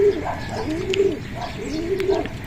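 Racing pigeons arriving from a 120-kilometre club training flight in Nueva Ecija coo close by in repeated soft, rolling phrases, with faint background noise.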